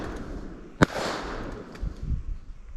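A single sharp shotgun report cracks out during a bird shooting hunt in Jamaica, loud and abrupt against faint outdoor background noise, followed by quiet rustling.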